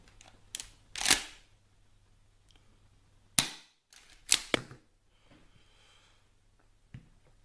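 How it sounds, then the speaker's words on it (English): An airsoft M870 shell-ejecting shotgun fires and is pumped: several sharp cracks and clacks spaced over a few seconds, close and crisp against near silence. "pull the trigger, fires, pull it back, out goes the old shell"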